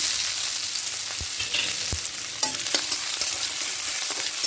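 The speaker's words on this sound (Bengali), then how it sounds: "এবার এখানে একটা পেঁয়াজ কুচি আর কাঁচা পাকা লঙ্কা কুচি দেবো।" Chopped onion and green chillies frying with garlic in oil for red amaranth greens, a close continuous sizzle with occasional stirring clicks and pops.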